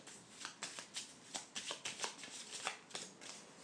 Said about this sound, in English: I'm just going to give this a good shuffle